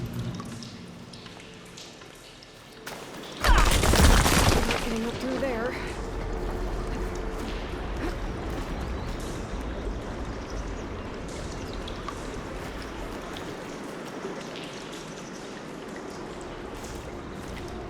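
Water in Horizon Forbidden West rushes through pipes: after a quiet start, a loud gush bursts in, then settles into a steady flowing hiss that continues under a brief spoken line.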